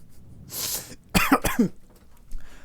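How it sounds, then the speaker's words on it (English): A person coughs a few times in quick, harsh bursts, close by, with a breathy exhale before and a short pause after. "excuse my coughing there"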